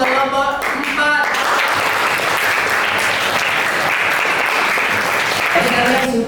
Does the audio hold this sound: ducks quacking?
no